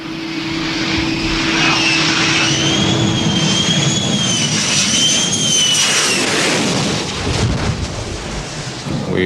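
Jet aircraft on approach to land on an aircraft carrier flight deck in 1970, a loud, close, sustained engine roar with a rising and falling whine that swells, then slowly fades into rumble.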